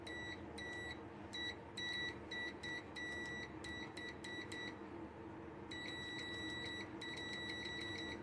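A Victor VC890D multimeter gives its continuity beep, a series of short, high, clean electronic tones in irregular bursts, then one longer beep after a brief pause. The tones sound close and clear over quiet background hiss.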